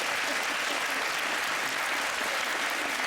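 A studio audience applauds steadily at an interview taping, a dense, even wash of clapping that stays loud and unbroken throughout, with no voices over it.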